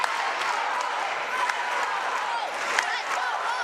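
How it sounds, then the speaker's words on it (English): A home crowd at DeVos Fieldhouse cheers and shouts during an NCAA Division III volleyball match between Hope and Trine, a steady, broad roar with scattered claps and whoops. "The crowd here at DeVos exhorting their Dutch to pull out a victory"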